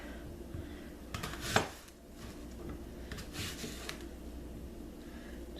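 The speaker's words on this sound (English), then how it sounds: "Just use a big knife like this. And I just cut them up." A big knife chops apples for applesauce on a cutting surface, giving a few soft, scattered knocks and taps. They are faint and close, with quiet kitchen background between them.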